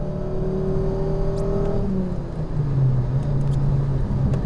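A 2004 Volvo S60 engine pulling hard through the gears, a steady rising drone that drops at a shift and settles into a lower, louder hum, heard from inside the car without talking.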